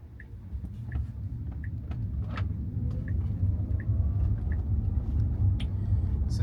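A Tesla Model Y driving on FSD Supervised 12.5.1 gives a steady low road rumble from inside the cabin, with faint intermittent clicks over the continuous tire and motor hum and no talk.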